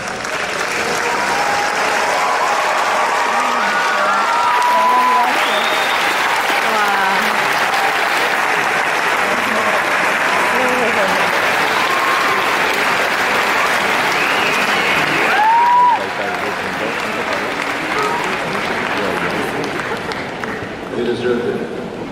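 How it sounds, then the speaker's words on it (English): Sustained, loud applause from a standing audience at a university graduation ceremony, steady and dense for the full stretch with a few whistles and cheers rising out of the crowd and a brief swell near the end. "give all of them a standing ovation"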